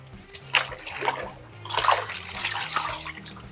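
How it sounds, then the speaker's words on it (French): A sport air filter being rinsed by dunking it in water gives splashing and sloshing bursts, with two main surges of moving water under a low steady hum. "le fait de faire passer de l'eau au travers en l'immergeant directement"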